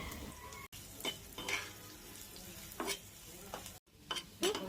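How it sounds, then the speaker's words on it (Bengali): Bay leaves, dried chillies, chopped garlic, onion and cumin frying in oil in a pan, a soft continuous sizzle broken by several scraping stirs of a spatula, with brief clinks and no speech. "জিরা দিয়ে জিরাটাকেও ভালো করে ভেজে নিব"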